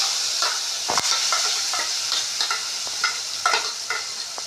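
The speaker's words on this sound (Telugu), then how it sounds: "ఇలా పోపులో అయితే చట్నీ కలుపుతున్నా" Brinjal chutney being stirred into a sizzling tempering in a pan, with a steady frying hiss and repeated soft scraping strokes of the spoon close by, no voices.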